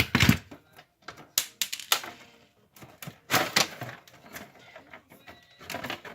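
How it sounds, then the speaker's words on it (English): Screws are removed from the bottom tray of an HP Officejet 4620 printer, giving a string of sharp irregular clicks, taps and ratcheting knocks up close, with brief quiet gaps and a faint voice in places. "To remove the bottom tray, we're just going to remove a few screws here on one side"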